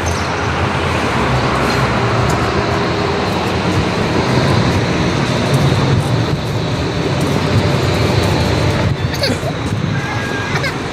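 A tram passes through a city street with a continuous loud rumble and rolling wheel noise mixed with road traffic, steady for the whole stretch, with a brief sharper squeal near the end.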